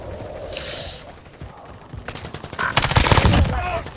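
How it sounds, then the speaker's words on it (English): Rapid automatic gunfire in a battle-royale video game swells in the latter half, dense bursts of close shots following quieter moments, with a player's voice briefly audible. "I'm getting shot from the right."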